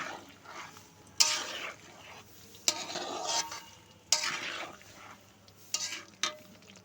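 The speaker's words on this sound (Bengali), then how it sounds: "এবার আমগুলোকে দিয়ে দিব তেলের মধ্যে" Mango pieces for pickle fry in hot oil: a soft sizzle swells in repeated bursts, each opening with a sharp clink or scrape of stirring, at close range and without voices.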